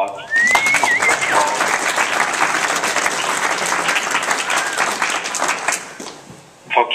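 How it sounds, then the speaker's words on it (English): A round of applause from a group at a school event, steady clapping that holds for about six seconds with a brief whistle near the start, then dies away. "Let's also give Ms. Wilbur a round of applause"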